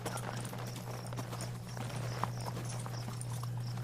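Footsteps in a tabletop fantasy game, clopping steadily and evenly like hooves over a constant low hum, at moderate distance with no talk.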